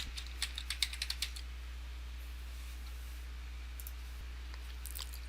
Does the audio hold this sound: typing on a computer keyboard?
yes